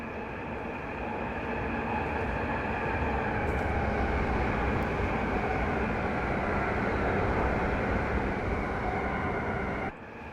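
Toy train running, a steady loud mechanical rumble and whir continuing evenly for about ten seconds before abruptly dropping away at the end.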